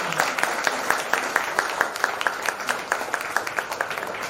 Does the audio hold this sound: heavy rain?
no